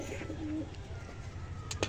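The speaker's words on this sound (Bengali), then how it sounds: "এই যে পায়রাগুলো" Pigeons cooing nearby, a soft low coo rising briefly from a quiet outdoor background, with a couple of faint chirps near the end and no talking.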